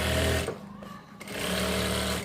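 A sewing machine runs steadily, stitching a farshi shalwar half an inch in from the edge. The motor drone is loud and close, eases off briefly in the middle, then picks back up to full speed.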